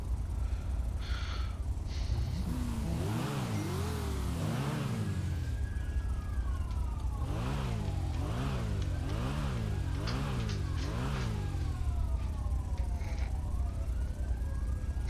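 In FiveM, the GTA V roleplay mod, a recklessly driven car revs and accelerates repeatedly in rising and falling sweeps, with a siren wailing in the background throughout.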